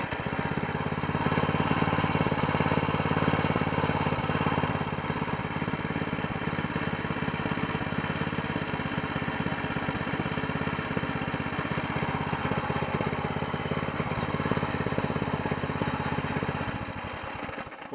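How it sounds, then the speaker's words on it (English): A longtail mud motor engine runs at a steady, loud, continuous drone with a dense mechanical rattle, close by, holding even throughout before tapering at the very end. "Alright, I'm going to try to fire it up again here. I'm going to run all the fuel out of the carburetor."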